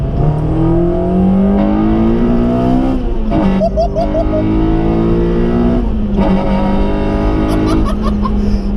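A Honda Integra DC5 engine revs hard through rising gears into VTEC, its pitch climbing sharply then dropping between shifts, loud and close with a screaming high-rpm wail.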